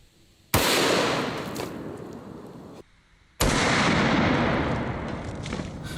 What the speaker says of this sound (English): The bullet we're shooting is a 300 grain Hornady hollow point and it is a beast.